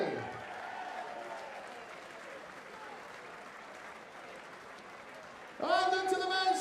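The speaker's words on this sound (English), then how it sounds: "a massive round of applause first for Mark Barelli" Crowd applause fills the hall at the 2024 WDF Lakeside World Darts Championship, a steady dense wash of clapping that swells into a louder, brighter burst with tonal sound near the end.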